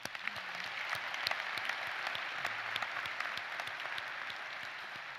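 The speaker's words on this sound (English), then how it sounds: "Let's applaud Alexandria" An audience at the University of Maine's 2025 undergraduate commencement ceremony applauds a graduate: steady, dense hand-clapping from many people in a large hall, moderately loud and continuous with no voices over it.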